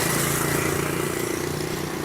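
Street traffic in Vietnam surges past as a dense, steady wash of motorbike and car engines, loud and close, with a constant droning rumble.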